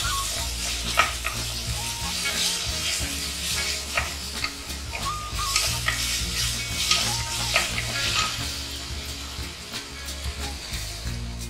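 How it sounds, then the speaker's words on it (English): Ginger, garlic and green chili paste fries with onion in a pan for mushroom biryani, giving a steady, close sizzle broken by frequent stirring scrapes throughout, with no talking. "Now let's add in the ginger, garlic and green chili paste. We'll cook that until the raw smell disappears."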